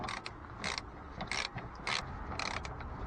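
A big hand ratchet snugs a brake line fitting on a 2011 Hyundai Santa Fe rear brake job, clicking in quick bursts of crisp pawl ratcheting between short pauses, close and clear with no speech.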